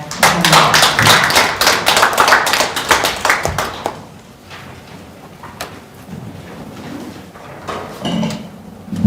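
Audience applause at a policy forum in a National Assembly seminar room follows a presentation: a loud burst of dense clapping for about four seconds, then fading into scattered claps and room murmur.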